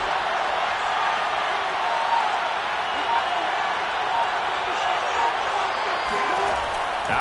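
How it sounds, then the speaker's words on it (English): Steady roar of a stadium crowd in an American football video game, a constant wash of cheering noise building before a big third down, with no distinct breaks over several seconds. "the crowd getting into it as we come up on a big 3rd down"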